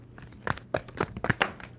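Cards being shuffled up close, several quick riffling snaps and papery crinkles in a short irregular burst.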